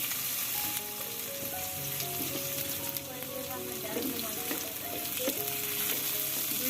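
Chopped onion and green chili fry in a pan with a steady close sizzle and occasional stirring clatter, while a voice talks faintly underneath.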